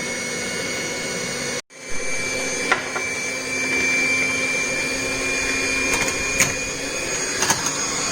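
An electric hand mixer whirs steadily as it beats cream for a chocolate tres leches cake, a loud continuous drone with a brief cutoff near the start before it restarts and keeps running, with faint clinks of the beaters against the bowl.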